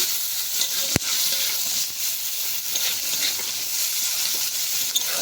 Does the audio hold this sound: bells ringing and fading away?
no